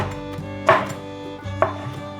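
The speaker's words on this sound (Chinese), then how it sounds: "把香菇角切片， 再切条，换一个方向切丁" A kitchen knife chops shiitake mushroom stems into small cubes on a board, with two firm, close chops about a second apart and a light knock between them.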